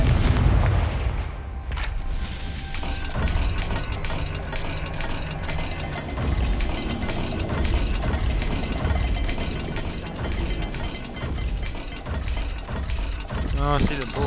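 Confringo blast spell in Hogwarts Legacy, a loud fiery burst followed by sustained rumbling, crackling destruction and clattering debris, with a brief rising magical flourish at the end.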